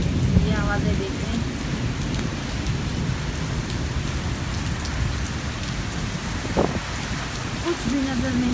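Heavy rain pours steadily over a village, a dense close hiss of drops on surfaces, with low thunder rumbling underneath and a brief faint voice now and then.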